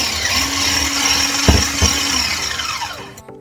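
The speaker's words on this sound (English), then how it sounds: "I've transferred it into a different bowl with my standing mixer as it was splattering everywhere" A stand mixer whisks buttermilk into red velvet cake batter with a steady whirring hum and a faint squeal, two sharp clanks partway through, then cuts off abruptly at the end.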